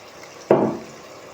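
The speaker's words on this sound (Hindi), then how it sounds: "अब इसमें मैं आधे गिलास से थोड़ा सा कम ये पानी डालूँगा" Water poured into a pan of spiced moong daal begins abruptly and splashes loudly for about half a second, then fades into a softer trickle.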